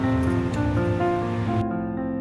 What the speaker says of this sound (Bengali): এখন ডিমগুলোকে ভালোভাবে ভেজে নেব।